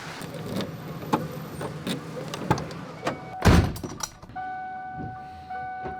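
After nearby key jangles and door clunks, a work van's engine cranks with a loud burst and catches quickly, settling into a steady idling hum.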